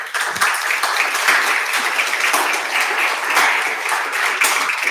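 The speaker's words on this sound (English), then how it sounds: "let's give Katy our applause now." Steady, dense applause from a seated audience at a Seniors for Peace gathering, closing a talk on Myaamia restorative justice; the clapping stays loud and even throughout without fading.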